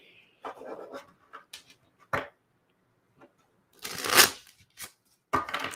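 A Golden Thread Tarot deck is shuffled by hand, with close, crisp bursts of riffling cards separated by short quiet gaps, one longer flurry near the end.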